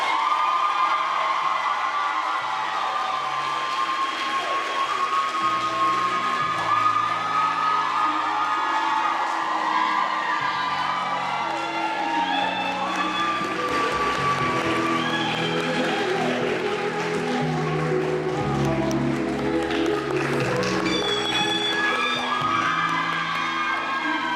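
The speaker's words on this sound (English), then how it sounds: "please give a huge round of applause for our 2022 Miss Bennett College and her Royal Court" Crowd at a Bennett College coronation applauding and cheering for Miss Bennett College and her royal court, with sustained loud clapping, whoops and shouts throughout, dense and continuous.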